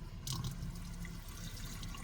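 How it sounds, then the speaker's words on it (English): Tap water runs steadily from a campervan faucet into a sink, a close, even gushing stream with a brief splash at the start and no talking. "So now we just need to turn our taps on"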